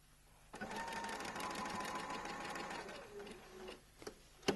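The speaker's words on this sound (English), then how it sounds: "Stitch the rest of the darts in the same way." A domestic sewing machine stitches darts in dress fabric, running steadily and close for about two seconds, then slowing and stopping, followed by a few small clicks and handling sounds.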